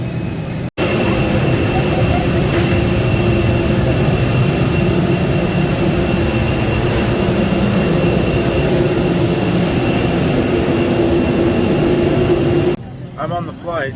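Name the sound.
airplane engine noise heard during a flight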